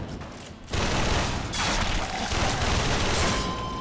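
Explosive barrels blowing up in the video game Warframe, a loud cluster of booming blasts and crackling bursts, heavy and continuous after a brief quieter start.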